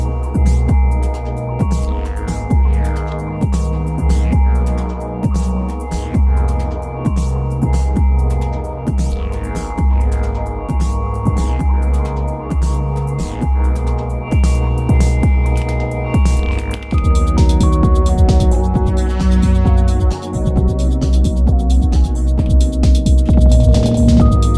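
Elektron synthesizer playing through a dark reverb effect: a loud, dense sequenced pattern of sustained tonal notes and repeating pulses with a long washy tail, shifting to a brighter, more layered texture midway, with no voices.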